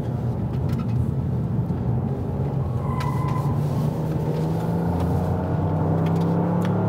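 Toyota GR Yaris hatchback driven through corners, a steady engine drone with shifting pitch and tyre and road noise heard from inside the cabin, fairly loud and continuous throughout.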